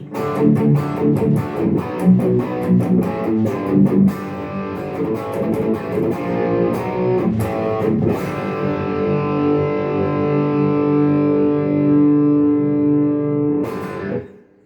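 Thick, crunchy distorted electric guitar through a BOSS ME-25 multi-effects pedal plays a chugging rhythm pattern with sustained chords, loud and close, ringing out before a sudden cutoff at the end.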